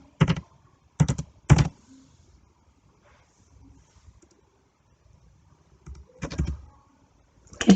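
Typing on a computer keyboard during HTML coding: a few short bursts of clicking keys, close and crisp, separated by quiet pauses, with a faint voice in between.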